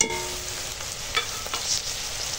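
Ginger garlic paste and cumin powder fry in a pan for a pointed gourd vegetable dish, a steady close hiss and crackle with a few faint stirring scrapes and no speech.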